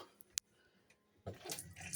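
Water runs from the sink tap in a Bailey Ranger GT camper van, first hot then cold. A few clicks of the tap come first, then a steady, close splashing stream fills the last second.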